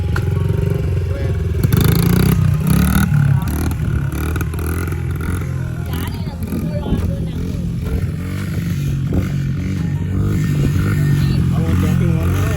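A kid's dirt bike engine running close by, a steady motor drone with some revving and clatter, mixed with people talking over it.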